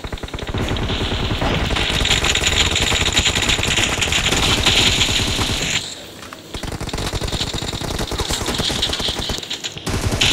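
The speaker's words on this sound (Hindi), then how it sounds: "तगड़ा फायर कर रहे हैं ये लोग," Dense, loud automatic gunfire from a video game shooter match, sustained rapid bursts filling the whole stretch with one brief lull midway before the firing resumes.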